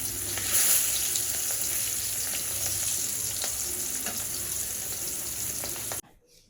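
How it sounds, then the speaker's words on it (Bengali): Pieces of medium-sized boal fish fry in hot oil in a pan, a steady loud sizzle with occasional pops, close up, cutting off abruptly near the end with no voices. "এদিকে বোয়াল মাছ ভাজি করতেছি"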